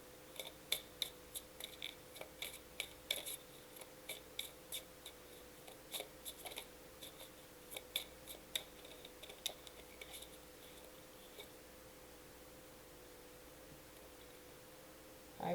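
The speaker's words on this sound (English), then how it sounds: "Let me pull 2 cards on this." Tarot cards being pulled from a deck: faint, close papery shuffling and a series of soft, irregular card snaps and slides continuing for several seconds, with no talking.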